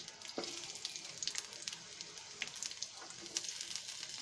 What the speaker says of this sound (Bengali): এখন আমরা তেলের ভিতরে আমাদের পেঁয়াজ যা আছে পেঁয়াজ আমরা ভাজতে দিয়ে দেব।